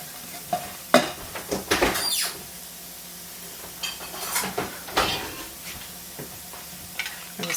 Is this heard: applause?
no